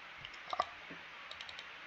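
Keys clicking on a computer keyboard while a sum formula is typed into a spreadsheet, a short run of quiet, close clicks with a small cluster of sharper taps, fairly faint.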